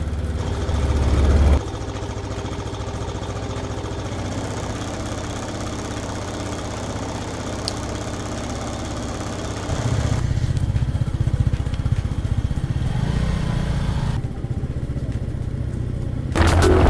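A motorcycle ridden through Taiwan streets hums with a steady, close engine drone under wind noise, swelling and dropping slightly as it changes speed, with no talking.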